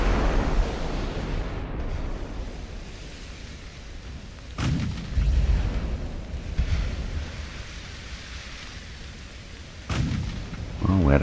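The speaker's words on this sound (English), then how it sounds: "It is a 14-inch gun." Battleship 14-inch naval guns fire in Ultimate Admiral: Dreadnoughts, each salvo a heavy, booming blast. Two main shots land several seconds apart over a constant rumbling sea-and-battle backdrop.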